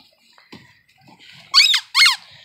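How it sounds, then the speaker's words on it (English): Squeaky dog toys at a dog rescue give two loud, high squeaks in quick succession after some faint rustling and soft bumps. "Hey, more squeaky toys."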